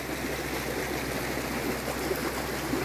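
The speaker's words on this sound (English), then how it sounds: "the top one is draining nicely, as you can see, and into the bottom one here" Water drains from a canal lock chamber at the Bunbury staircase locks with a steady, even rushing flow, moderately close and unbroken, and no voices.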